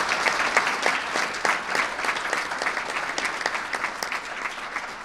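An audience at a New York gun violence and crime event gives sustained applause, a dense wash of many hands clapping with crisp individual claps standing out throughout.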